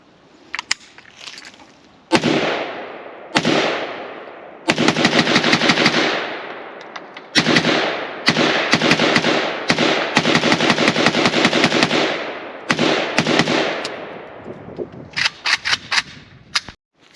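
A Romanian Nova CGR AK rifle fires on an outdoor range: loud single shots early, then repeated rapid strings of sharp cracks with short pauses between bursts, close and dominant throughout.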